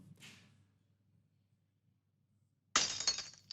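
AI-generated synthetic glass breaking: a faint brief noise at the start, then near silence, then a sudden loud bright shatter with tinkling fragments trailing off.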